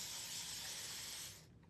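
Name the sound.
spraying from a spray bottle onto a frame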